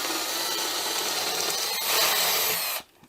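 A power drill bores into wood while building a control panel, a steady loud whirring grind that holds for nearly three seconds, swells briefly near the end, then cuts off abruptly into quiet.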